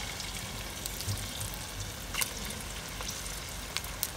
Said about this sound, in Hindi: हाँ, बस अब ऑयल गर्म है और हम इसको पकड़ेंगे और वन बाय वन करके इसमें डालते